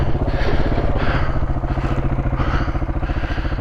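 Royal Enfield Himalayan motorcycle on a trail ride in the Yorkshire Dales, its single-cylinder engine thumping in a steady pulsing rhythm that surges and eases as it climbs toward the listener, fairly close and unaccompanied by voices.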